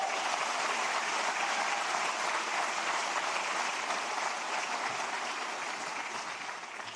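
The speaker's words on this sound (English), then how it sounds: "I'd like to give them a round of applause" A crowd at a State of the City 2023 address gives the Smith family a sustained round of applause, a thick, continuous roar of clapping that holds steady and tapers slightly toward the end.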